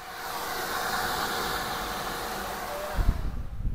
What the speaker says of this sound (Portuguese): Ventoinha da moto acionou, olha aí.